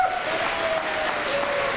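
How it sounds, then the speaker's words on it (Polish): A crowd applauds the volunteer fire brigade brass band from Zielonka Pasłęcka at its 95th anniversary, a short, steady burst of clapping with a faint held tone underneath. "Proszę Państwa, brawa dla nich!"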